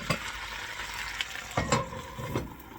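Potatoes and turnips fry in a Dutch frying pan, a steady close sizzle with a few scraping stirs and clinks of a utensil against the pan, no voices.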